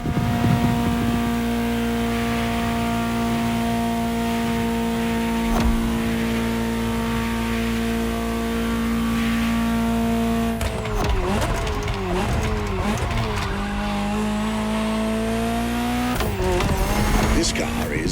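A Ferrari GTO engine in The Crew Motorfest holds a steady tonal drone, then revs and shifts in rising and falling sweeps, loud and close beneath a narrating voice.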